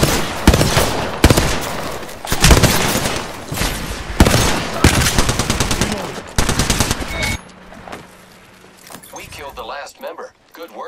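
Automatic weapon fire in the Apex Legends battle royale shooter on Xbox One, several loud rapid bursts separated by brief pauses over about seven seconds, then fading to quieter game ambience and a low hum.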